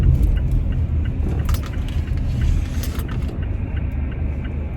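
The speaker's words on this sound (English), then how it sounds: "I'm driving to work now" A car driving on a road on the way to work, heard from inside as a steady, loud rumble of engine and road noise with faint rattles, no talking.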